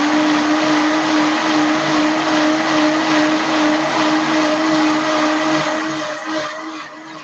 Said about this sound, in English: I'm just gonna finish and clean the blender.